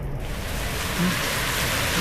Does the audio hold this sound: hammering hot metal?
no